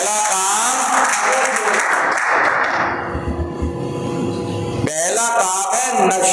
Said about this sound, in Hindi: ताली बजा दीजिए इनके लिए।